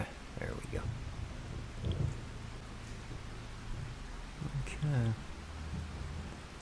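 Rain and thunder in the Farming Simulator 25 video game, a steady broadband hiss of rainfall with low rumbling swells near two and five seconds, running under a man's brief spoken remark.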